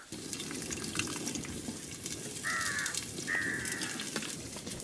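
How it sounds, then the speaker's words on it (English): Oil sizzles steadily in a hot clay pot outdoors, a continuous close frying hiss, with two short crow-like bird calls cutting through in the middle. "Clay pot's all hot. Okay, so you have oil in there."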